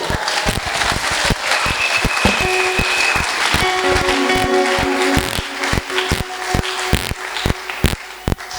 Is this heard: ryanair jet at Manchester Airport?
no